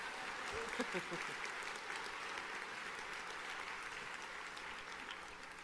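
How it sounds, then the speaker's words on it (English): Graduation audience at a college spring commencement applauding, a steady, even wash of clapping that fills the hall for several seconds at moderate distance, with a few louder claps near the start and a faint voice underneath. "Y'all can clap right now."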